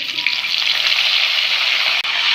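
Fennel seeds and curry leaves sizzle in hot oil for a beef curry, giving a loud, steady crackling hiss close by with one brief sharp drop near the end.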